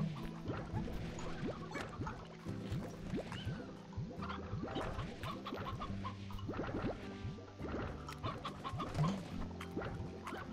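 Chickens cluck in the Slime Rancher game, a steady busy chatter of many birds close by with soft dripping, no talking.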